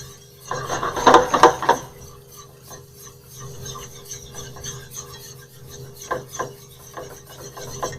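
Cream melting into a roux gets stirred in a pan with a wooden utensil. A burst of loud scraping and rubbing is followed by softer, intermittent stirring scrapes, close up and without talk.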